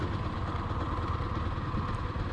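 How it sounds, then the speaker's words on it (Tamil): A KTM Duke 250 motorcycle engine labors at low speed in sixth gear, shaking and knocking at around 35 to 40 km/h. It makes a steady, close, gritty rumble with no talking. "35-37-40 வரைக்குமே பார்த்தீங்கன்னா இன்ஜின் வந்து அந்த கொஞ்சம் ஷேக்கியாக தான் இருக்குது, இடிக்குதுன்னு சொல்லலாம்"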